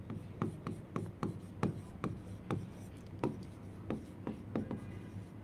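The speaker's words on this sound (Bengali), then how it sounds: "এখন আমি একটা প্রশ্ন লিখি" A pen scratches out an example sentence on paper during an English lesson, a string of short, irregular strokes and taps with small pauses, close and fairly quiet, no talk.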